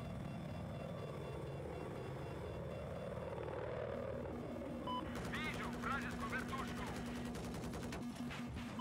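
Little Bird helicopter in Battlefield: a steady rotor and engine drone fills the scene, then rapid bursts of gunfire crackle over it, with a voice talking over the din.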